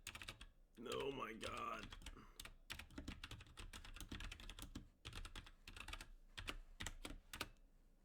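Fast, continuous clacking of keyboard typing up close, with a brief spoken exclamation near the start before the keys take over.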